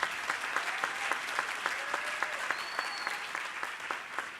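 An audience at an agricultural leadership event gives a round of applause for João, a moderate, steady patter of clapping from a medium-sized crowd, with a few faint voices mixed in.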